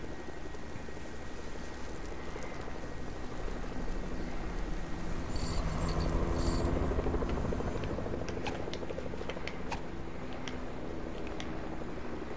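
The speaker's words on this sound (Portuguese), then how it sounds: "ó o helicóptero" A helicopter in Fortnite drones with a steady rotor and engine hum, a continuous mid-level roar with some sharp clicks toward the end.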